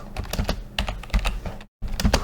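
Quick bursts of typing on a computer keyboard, close and crisp, with rapid irregular key clicks and a brief pause near the end.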